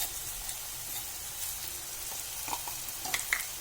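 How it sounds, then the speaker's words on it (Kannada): Chopped onion and garlic paste frying in a pan for an Uttara Karnataka brinjal bharta, with a soft, steady sizzle and a few light stirring clicks, fairly quiet and without talk. "ಆಮೇಲೆ ಹೆಚ್ಕೊಂಡಿರುವಂಥ ಉಳ್ಳಾಗಡ್ಡೆ ಹಾಕ್ರಿ, ಸ್ವಲ್ಪ ಅಲ್ಲ ಬೆಳ್ಳುಳ್ಳಿ ಪೇಸ್ಟ್ ಹಾಕ್ರಿ"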